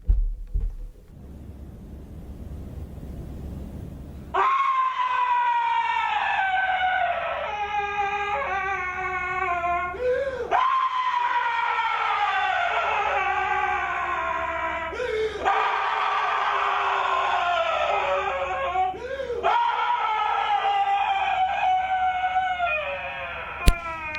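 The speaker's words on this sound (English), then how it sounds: "This clip of a guy screaming is from an art piece called Danger Music 17 by Dick Higgins" A man screaming in a live performance of the art piece Danger Music 17 by Dick Higgins, long strained wailing yells repeated in bursts after a quiet start, loud and harsh with poor recording quality.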